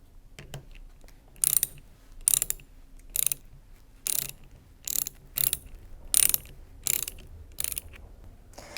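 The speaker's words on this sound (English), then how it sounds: "Remember, don't stop until all bolts are firmly tightened." Torx T40 bolts being tightened on a Karcher motor, a series of about ten sharp ratcheting bursts at a steady rhythm, close and fairly loud, with quiet gaps between them and no talking.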